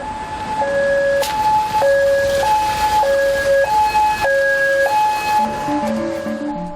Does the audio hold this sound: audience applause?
no